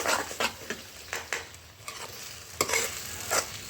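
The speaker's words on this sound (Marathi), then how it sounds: "आता त्याला काय करते, काजूची पेस्ट टाकून घेते याच्यामध्ये." Cashew paste hits hot oil in a pan over a wood-fired stove, giving a close sizzle broken by repeated scraping stirs and soft spatula knocks through a short stretch.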